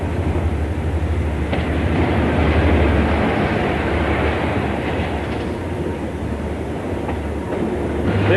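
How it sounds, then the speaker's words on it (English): Loud, steady rumble of a passenger train with power car problems arriving at York station, rolling along the rails with faint clattering, continuous and close, no voices. "The 852 from Edinburgh to King's Cross limped into York with power car problems."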